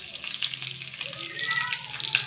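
Urad dal, cumin, mustard seeds and dried red chillies sizzle in hot oil for a South Indian tempering: a close, steady crackling fry with a few sharper pops and no voices.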